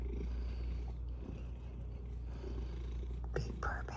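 A Munchkin cat purrs in a steady, soft, continuous rumble close by, with quiet household noise and a brief faint stir near the end.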